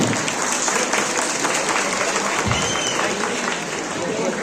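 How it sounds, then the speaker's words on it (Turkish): Sustained applause from a crowd at an iftar dinner gathering of a regional community association in Pendik, a dense, loud clapping roar that holds steady throughout. "Takdirleriniz alkışlarınızla tabii ki."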